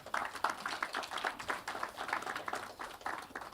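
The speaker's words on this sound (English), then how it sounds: "I believe the applause can be louder" Audience at a business incubator managers' workshop in Ghana clapping, a moderate, slightly uneven patter of hands that stays fairly quiet and continuous throughout.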